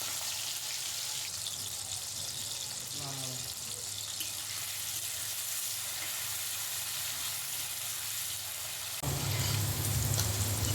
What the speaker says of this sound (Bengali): এবার একটি কড়াইতে সরষের তেল গরম করে চিংড়ি মাছগুলো ভেজে নিচ্ছি।